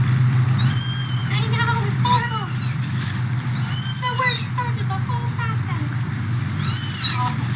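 A young big cat lets out four loud, high screaming calls in separated bursts over a steady low rumble.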